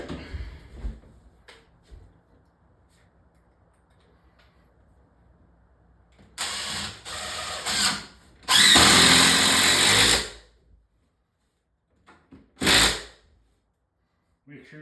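A power drill drives 3.5 inch screws into wood framing for closets in a bedroom remodel, with several loud whirring bursts of a few seconds each separated by quiet pauses.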